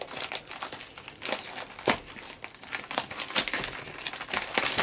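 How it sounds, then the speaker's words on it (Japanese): Plastic packaging of an Akapakkun deodorizer crinkles and crackles as it is opened, with repeated sharp crumpling bursts throughout, close and fairly loud, no talking. "ちょっと開封してみましょう。"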